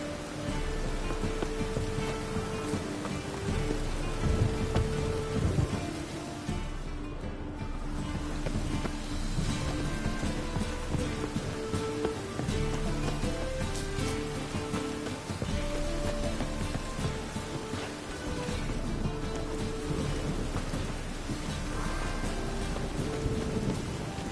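A thunderstorm in a PS4 video game gives steady, heavy rain with rolling thunder, a continuous loud wash over a low rumble lasting more than twenty seconds, with some faint musical tones threaded underneath.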